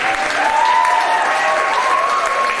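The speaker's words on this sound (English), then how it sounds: "round of applause here" Dense, loud applause from a concert audience at a university Middle East music ensemble winter concert, steady throughout, with a sustained tone ringing faintly beneath the clapping.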